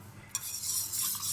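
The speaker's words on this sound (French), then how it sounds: "avec le fouet pour la délayer avec le lait." Whisking crumbled fresh yeast into milk in a saucepan gives a brisk, close scraping and swishing that starts abruptly and continues steadily, with a few light metallic taps and no voices.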